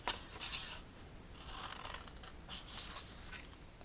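Scissors snip through card stock for a handmade gift box in a few quiet, close crisp cuts, with soft rubbing of paper between them.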